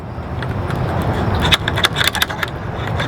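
A bunch of keys jangles and clinks close by in short bursts over a steady background hum, with a few sharp metallic rattles in the middle.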